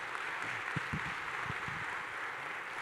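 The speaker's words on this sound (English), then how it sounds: "Big round of applause for that." Audience at a main-stage conference session gives a round of applause, a steady wash of many hands clapping at moderate distance, with a few low thuds underneath.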